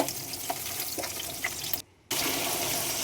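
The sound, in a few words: water being poured into the pot for boiling potatoes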